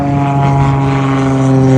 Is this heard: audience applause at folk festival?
no